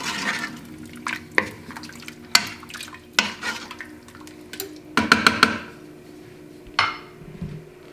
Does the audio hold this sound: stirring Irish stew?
yes